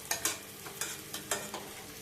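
Fried rice is tipped into cooking dal for khichuri, a run of soft, close scraping and stirring strokes with faint sizzle between them.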